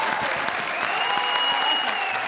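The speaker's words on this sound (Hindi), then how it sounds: "आप तालियां बजा रहे हो" Studio audience applauding at a televised Hindi comedy show, a steady, dense wash of clapping that holds at even loudness throughout with no voices above it.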